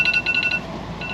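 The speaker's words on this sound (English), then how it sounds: "That's my alarm to go and put the bread in the oven." Phone alarm going off outdoors, a brief run of rapid high electronic beeps, fairly faint over background noise, lasting about a second.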